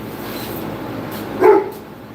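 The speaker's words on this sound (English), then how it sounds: "What the hell are you barking at?" A dog gives a single short bark partway through, over a quiet background room hum.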